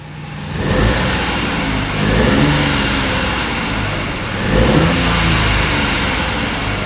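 A salvaged Mk7.5 Ford Fiesta's engine runs steadily close by, revving up a little a few times with a low, throaty hum.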